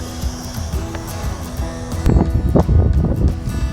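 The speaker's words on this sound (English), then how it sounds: "Super windy here." Gusty wind buffets the microphone outdoors while flying an FPV drone, a low rumbling roar that swells louder partway through, with no speech.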